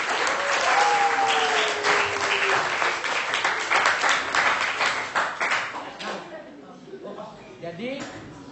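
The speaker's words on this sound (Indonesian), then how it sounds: "Silakan tepuk tangan." A classroom group bursts into steady applause that fades out over several seconds, with a voice speaking at the start.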